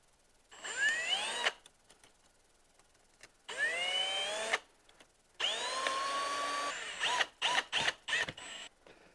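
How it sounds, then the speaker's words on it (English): A worm-drive hose clamp being tightened around a snowmobile mount with a power driver, several whirring bursts of rising pitch separated by pauses, ending in a string of short quick pulses, close and clear with no talking. "now we've got our worm clamp tightened around our mount here"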